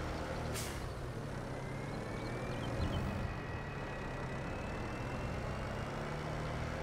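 A new Massey Ferguson tractor engine rumbles steadily up close, with a brief hiss of air early on and a faint rising whine underneath.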